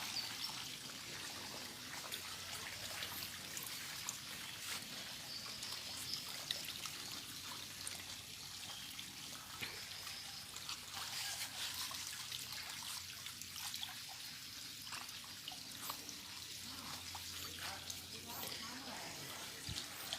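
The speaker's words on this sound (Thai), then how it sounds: "ตรงนี้ก็กำลังจะเอาน้ำใส่" Water trickles and pours steadily into a land-based frog-rearing tank, a continuous moderate splashing stream heard under someone talking.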